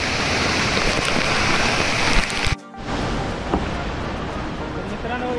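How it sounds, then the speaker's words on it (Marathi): A roadside stream at Tamhini Ghat flows during the monsoon with a loud, steady rush of water that briefly drops out midway, then resumes. "पाण्याचा फ्लो जास्त नाही आहे."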